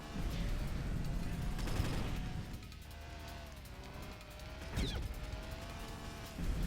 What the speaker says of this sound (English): Please, can we stop with the rockets?